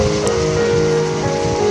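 Steady rain falls during a January hailstorm in San Diego, a loud, unbroken hiss of drops hitting surfaces nearby, with no voices over it.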